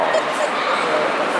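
A Papillon at the Crufts 2023 dog show gives high yips and whimpers amid a dense, steady crowd hubbub, with people talking nearby.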